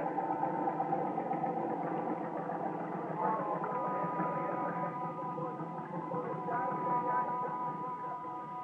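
A gasoline motor driving a Ferris wheel, staged as a radio drama sound effect, runs steadily with a mid-low engine drone and faint tonal hum throughout.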